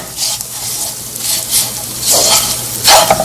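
Lemon rice being stirred in a pan with lemon juice, a few bursts of scraping and light sizzling rising and falling close by, with no talk.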